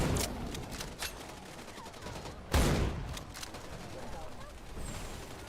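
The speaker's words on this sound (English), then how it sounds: "I don't know what it is with this sniper rifle, even though it's smaller than the default one with the sniper, but it sounds way beefier." Sniper rifle shots boom in a video game, a few heavy reports with one especially loud blast midway, set against background game noise and a talking player.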